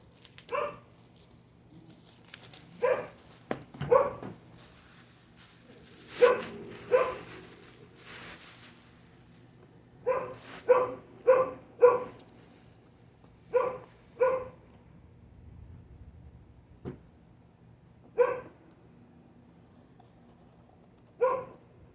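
Several neighborhood dogs bark in short separate bursts, some close and some farther off, spread out with pauses across a quiet background.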